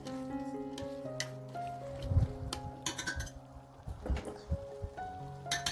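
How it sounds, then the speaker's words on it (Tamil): Chicken biryani masala with mint and coriander is stirred in a pot for Ramzan, giving scattered clinks and soft scrapes of a spoon against metal, with light background tones and no voice. "இப்போ இது எல்லாத்தையுமே வந்து நல்லா கிளறி விடுங்க"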